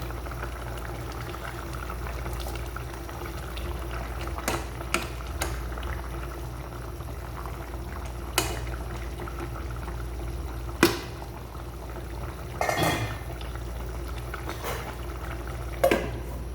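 Curry with tomatoes simmering in a pot, giving a steady low bubbling hiss broken by occasional small pops and spits, close and moderately loud, with no talking.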